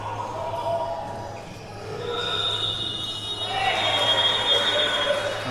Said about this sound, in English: As the buzzer goes for the basketball next to us